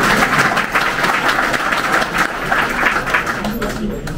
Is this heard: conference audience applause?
yes